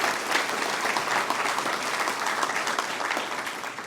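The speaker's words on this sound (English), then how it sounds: "He deserves that applause." Audience at a high school athletic hall of fame induction ceremony applauds a coach, a loud, sustained round of dense clapping that fills the room evenly for several seconds.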